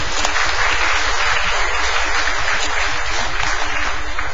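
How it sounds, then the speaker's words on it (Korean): A church congregation claps together in sustained, dense applause, loud and even throughout with no pauses. "우리 다같이 하나님 앞에 감사하는 마음으로, 사랑하는 마음으로 영광의 박수 한번 올립시다."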